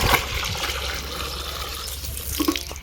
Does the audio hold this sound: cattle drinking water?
yes